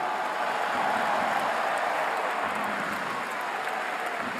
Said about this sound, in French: Et on va l'applaudir du moment hein